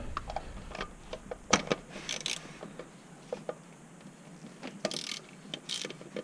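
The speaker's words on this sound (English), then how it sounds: "Okay, cracked it loose. This is just a generic oil filter wrench." Generic oil filter wrench working loose the oil filter on a 2018 Honda Accord 2.0T, a string of sharp metallic clicks and ratcheting taps, sparse and close in a quiet garage.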